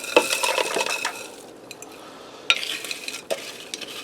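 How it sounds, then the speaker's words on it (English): Frozen hash browns are tipped over ground beef in a bowl for a casserole in a Ninja Speedi, giving a loud rattling clatter at first, then a quieter stretch and a few further sharp knocks and scrapes. "I'm going to go ahead and dump them hash browns over top."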